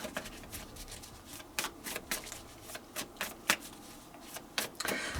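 Tarot cards are shuffled by hand in a quick, irregular run of soft riffling and flapping bursts with a few sharper snaps, close up and fairly quiet, with no talking.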